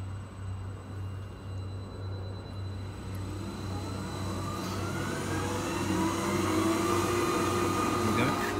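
A belt conveyor powered by a steel gear drum motor runs at crawling speed, a low steady motor hum with a faint rising whine and light mechanical hiss, close and continuous.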